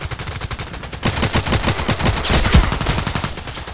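Rapid sustained bursts of small machine gun fire in the shooter game Contract Wars, loud and close with a steady fast rhythm and no talk.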